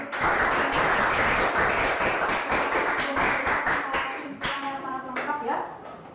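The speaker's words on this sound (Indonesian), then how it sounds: "Berikan aplaus dulu." A classroom of students gives a round of applause, with dense, close clapping from many hands that gradually thins out and fades near the end.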